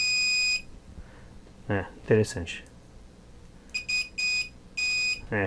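Several short, steady high-pitched continuity beeps from a Mastech multimeter, some lasting about half a second, alternating with a brief spoken word and handling noises.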